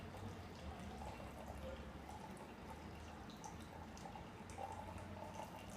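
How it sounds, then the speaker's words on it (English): Hot water is poured vigorously from a kettle onto ground coffee in a French press, producing a faint, steady splashing trickle with soft gurgles that run on quietly for several seconds. "I want to pour pretty vigorously to get all of the coffee all moving around there"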